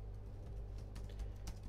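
Typing on a computer keyboard: a few soft, quick key taps in a short run, fairly faint against a steady low hum, no talk.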